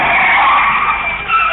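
A speeding car skids with a loud, sustained tyre screech lasting about a second and a half, close and alone.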